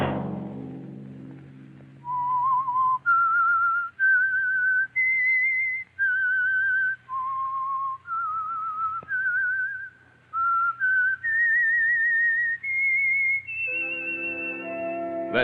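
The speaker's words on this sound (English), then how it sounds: "Let that whistle be your signal for the Signal Oil program, The Whistler" A lone whistler carries the eerie theme of The Whistler radio mystery program, a slow melody of clear sustained notes stepping up and down, close and bright, with a brief low chord opening underneath.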